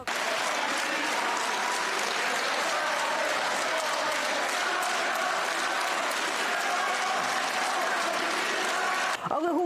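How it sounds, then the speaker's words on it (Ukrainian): Members of the European Parliament applaud in the chamber, a loud, dense, sustained wash of clapping that runs steadily before cutting off abruptly at the end, with a faint voice rising briefly as it stops. "Вони аплодували та намагалися заспівати Бела Чао гімн італійських революціонерів."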